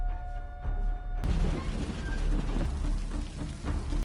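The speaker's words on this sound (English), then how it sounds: "And I love the rain." Steady rain in a The Last of Us episode falls as a dense, broad hiss with low rumbling underneath, starting quieter and suddenly swelling louder after about a second, then holding constant.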